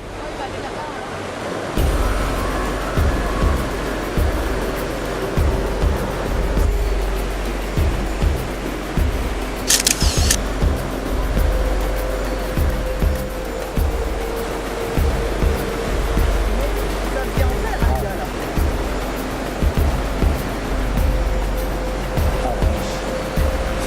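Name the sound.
ocean waves breaking on Bali coast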